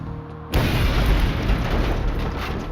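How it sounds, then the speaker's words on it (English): A loud, sudden bomb blast erupts about half a second in after near silence, then a dense roaring rumble fills the rest, staying heavy and sustained without fading. "The explosion was ferocious, blowing a massive gaping hole into Scruton's chest"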